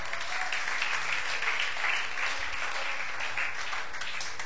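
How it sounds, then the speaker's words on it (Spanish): A church congregation applauding during a sermon, a steady mass of clapping at moderate level, filling the room without pause. "Dieron un fuerte aplauso al Señor."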